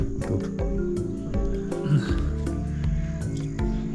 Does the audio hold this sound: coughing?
no